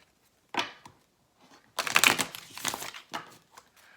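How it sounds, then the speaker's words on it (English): An oracle card deck is shuffled by hand, a short riffle of papery flicks, then a longer burst of dense crisp card rustling, with a few softer taps trailing off in a quiet room. "I'm going to now shuffle the Unknown Animal Spirit deck."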